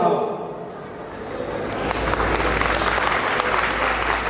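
An audience at a public talk breaks into applause: a dense, sustained wash of many hands clapping swells after a quieter start and holds loud and steady to the end, with a voice faintly audible early on.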